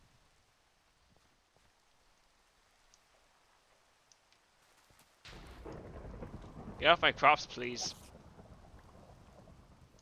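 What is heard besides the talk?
thunderstorm with rain in a video game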